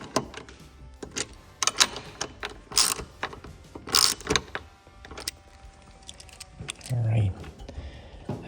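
Bolts on motorcycle floorboards and highway pegs are tightened with a ratchet, making close, irregular metallic clicks and clatters in short bursts, with brief pauses between them.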